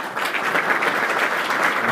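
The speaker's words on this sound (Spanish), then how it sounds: "Un aplauso, por favor." A dense burst of audience applause at a formal gathering fills the whole moment with continuous, fairly loud clapping and no other sound standing out.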